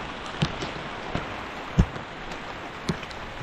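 Continuous rain falls on a flooded crop field as a soft, steady patter, with a few heavier drops landing as distinct close thuds.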